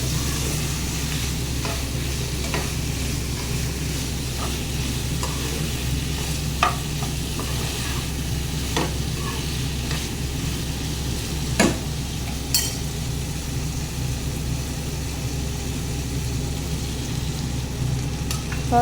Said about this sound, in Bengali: পনিরটা দিয়ে একটু নাড়াচাড়া করে নিচ্ছি